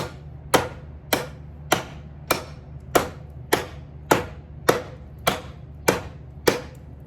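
A carbon steel Szco Bowie knife chops into wood with about a dozen sharp, evenly spaced strikes, each a loud close thwack that quickly fades, and no one talks.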